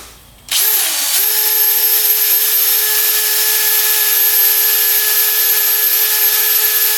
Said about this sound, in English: we're going to use our drill to clean up the surface of that, that boot here on the engine